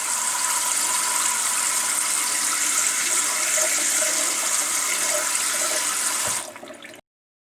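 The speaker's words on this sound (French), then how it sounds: "L'eau coule au robinet" Tap water runs in a steady, loud, continuous broadband rush for about six seconds, then cuts off abruptly as the faucet is shut, with no voices.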